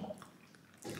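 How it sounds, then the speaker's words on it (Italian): A household dishwasher runs quietly in the background, giving a faint, steady wash of water sloshing and dripping with no one speaking. "era la lavastoviglie che sta andando"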